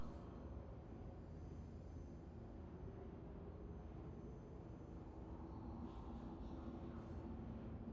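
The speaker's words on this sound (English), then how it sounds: "Tram now approaching." An approaching tram in the Star Citizen game rumbles as a steady, faint, continuous low roar with no talking.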